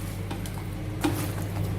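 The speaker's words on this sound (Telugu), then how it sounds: "ఇప్పుడు ఇలా చెక్క గరిటెతో ఇదంతా బాగా మిక్స్ చేసేసుకోవాలి." A wooden spatula stirs tempering into chopped mango pickle made with peanut oil, giving soft scraping swirls and one brief louder clatter midway over a steady low hum.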